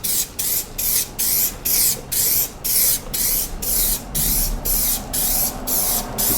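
Spray gesso hisses from an aerosol can onto a round 18-inch MDF board in about a dozen short, evenly spaced bursts, close and loud, with brief gaps between each pass.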